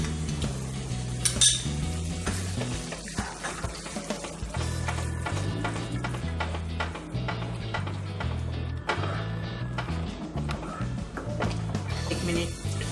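Cashew, melon seed and poppy seed paste frying with tomato, onion and ginger-garlic paste for hotel-style shahi paneer, stirred with a spoon that clinks and scrapes against the pan over a soft sizzle and background music.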